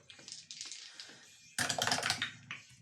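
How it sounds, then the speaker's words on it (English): Tabletop dice rolling and clattering during a role-playing game session, with quick rattling bursts and a louder cluster of many dice tumbling in the middle, heard close and clear. "I like the sound of all the dice."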